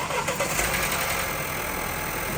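A Mercedes-Benz engine, just fitted with a new drive belt and tensioner, catches and runs in a steady, loud idle close by, with a rough roar throughout and no talking.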